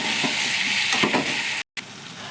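Mutton curry seasoned with salt and turmeric sizzles steadily in the pan while being sautéed, a close, continuous frying hiss with a few soft stirring scrapes and a brief dropout near the end.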